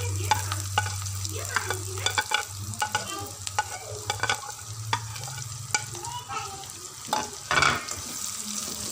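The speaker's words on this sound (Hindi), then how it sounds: "प्याज को हम अच्छी तरह फ्राई करेंगे।" Onions, garlic and green chilies frying in oil while a spoon stirs and scrapes the pan, a steady close sizzle broken by repeated clinks, with no talk over it.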